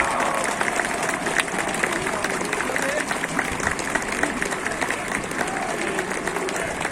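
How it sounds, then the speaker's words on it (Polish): A large outdoor crowd at the Independence March rally in Warsaw applauds, sustained loud clapping mixed with cheering voices rolling on steadily without a break. "Wielkie brawa dla nich, ale wielkie, ogromne brawa!"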